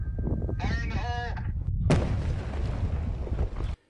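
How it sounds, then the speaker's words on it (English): A rock-blasting charge clearing a rock slide along Highway 78 near Ramona, going off as a single loud, broad burst that booms and rumbles for nearly two seconds before cutting off, following a short voice. "crews blasting a rock slide along the 78 near Ramona"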